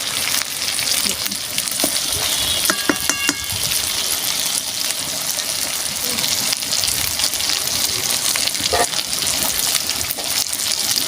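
Spiced chicken pieces fry in a pan for a mango chicken curry, a loud continuous sizzle and hiss with occasional stirring scrapes running throughout, close up and without speech.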